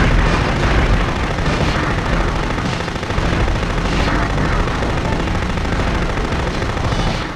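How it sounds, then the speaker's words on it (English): Mortar blasts from the video game Future Cop LAPD, a loud, dense barrage of booming explosions rolling continuously with no break, heavy and close. "Let's just keep chucking mortars on him."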